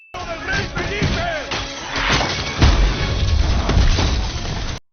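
A big film explosion in the 2010 Robin Hood movie during a castle attack, bursting in with a loud crashing roar, heavy low booms and rumbling debris that carry on for several seconds before cutting off abruptly.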